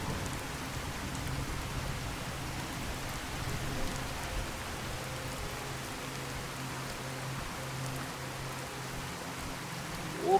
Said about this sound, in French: j'ai un mode pour la pluie, hein, vous avez vu, c'est bien plus ardu et compagnie, c'est plus violent.